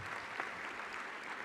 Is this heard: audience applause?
yes